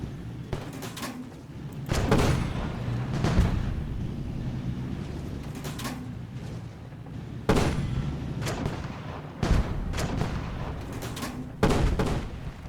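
Tank cannon shots fired at a Sherman in the Panzerkampf video game, about five heavy booming blasts spaced several seconds apart over a steady low engine rumble.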